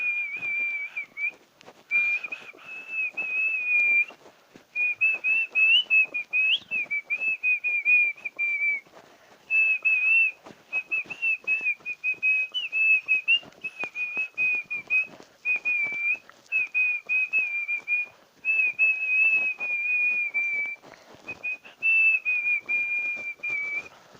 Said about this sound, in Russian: Сегодня я вам покажу мой художественный свист.